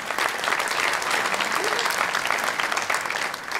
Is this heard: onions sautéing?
no